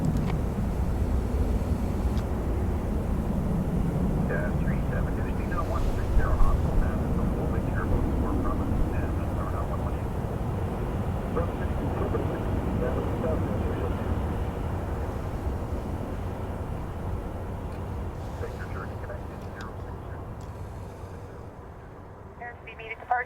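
A WestJet airliner landing on runway 35 right at Calgary International Airport, a steady broad roar of jet engines and wind rumble sustained throughout, fading slightly toward the end, heard from a distance outdoors.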